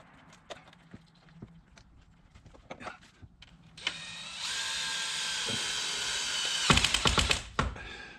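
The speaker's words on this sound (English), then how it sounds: "I'm turning the torque down on my drill, so I'm not like cranking on those screws." A cordless drill with its torque setting turned down drives screws while spark plugs are changed on a Jeep Wrangler 4xe. Scattered handling clicks give way to a steady whirring motor, ending in a loud burst of rapid clutch clatter.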